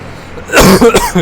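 A few harsh, close coughs in quick succession, loud and raspy, with a brief pause between bursts.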